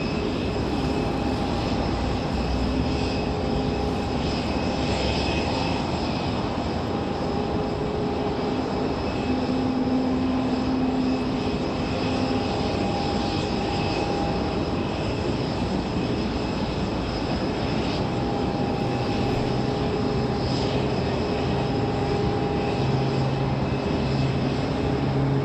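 An Airbus A319 airliner departs Raleigh-Durham International Airport, a steady, loud, broadband jet-engine roar that holds evenly throughout with a faint tonal whine on top.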